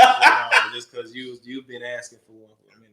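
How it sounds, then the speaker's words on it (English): A dog gives a few quick, loud barks close by at the start, then someone talks over a quieter background. "That's my dog."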